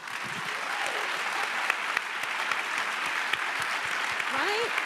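Audience applause at a live talk, a dense steady clapping from a crowd that holds for several seconds, with a voice speaking over it.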